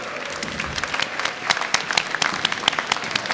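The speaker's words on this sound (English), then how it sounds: "all stand and kind of turn around to the person behind you and all give each other a massive round of applause" Graduates at a university business school winter graduation ceremony applaud one another, a lively burst of close, crisp individual claps within a crowd, sharp hand slaps standing out over the steady clapping.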